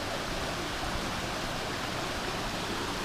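Steady, full broadband rush of a waterfall on a hiking trail in El Yunque rainforest, Puerto Rico, constant and close with no pauses or voices over it.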